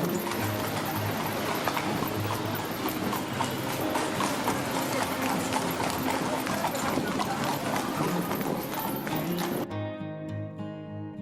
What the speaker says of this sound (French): on saute dans la calèche de Mustapha, tiré par son cheval Rambo